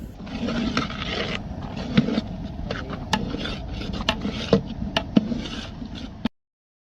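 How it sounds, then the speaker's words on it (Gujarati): Green chilli paste mixture stirred and scraped in a pan with a spoon, a steady close rasping scrape with occasional sharper metallic clicks against the pan, continuous for several seconds before stopping abruptly. "આપણે તેને સતત હલાવતા રહીશું જેથી કરી મસાલો નીચે ચોંટી ના જાય."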